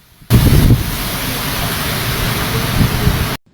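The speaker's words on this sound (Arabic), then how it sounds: "أمطار غزيرة تهطل على مناطق واسعة" Heavy rainstorm over Abu Dhabi amid thunder and winds above 70 km/h: a dense, steady roar of downpour with low rumbling surges, loud and continuous, then cut off abruptly.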